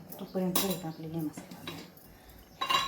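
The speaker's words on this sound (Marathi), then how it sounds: "आता कुकरचं झाकण लावून त्याच्या आपण" Metal clanks and a scrape as the lid is fitted onto a pressure cooker holding Nagar-style kala mutton. A few sharp, close knocks, the loudest near the start and again at the end.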